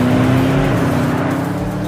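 A 2021 Porsche Panamera Turbo S runs on a racetrack, its engine a loud, steady droning hum with a sustained tonal note that holds and dips slightly as the car goes by.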